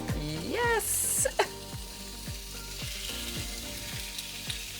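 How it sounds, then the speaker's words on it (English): Lamb cutlets sizzle loudly and steadily on the barbecue setting of a Smeg Galileo oven, a dense frying crackle close by, with a short high beep at the start and a metallic clunk as the food goes in. "Get ready for some sizzling."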